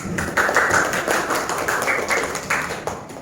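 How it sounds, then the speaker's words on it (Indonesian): Classroom children clap together, a burst of rapid overlapping handclaps that swells and fades in uneven waves across the whole moment, fairly close and loud. "tepuk tangan untuk kita semua"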